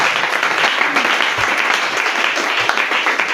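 A congregation applauds during a French-language church sermon, with continuous dense clapping that is loud and close and a few voices mixed in.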